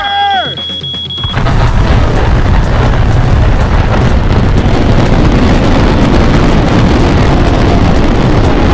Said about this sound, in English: This is the most expensive firework in the entire world